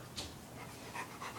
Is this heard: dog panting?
yes